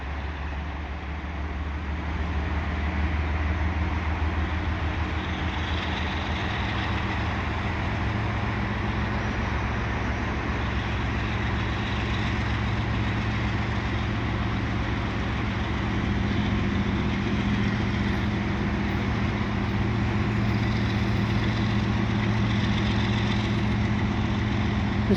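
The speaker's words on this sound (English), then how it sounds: "looks like this freight train is going to be moving" CN mixed freight train idling at a holding track, then departing: a continuous loud, low diesel engine rumble that holds steady and slowly builds over the whole stretch, with no talk.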